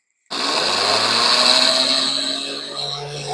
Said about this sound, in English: Into the blender jar they go. And now I'm going to add my dry ingredients to that. We're going to blend those up together.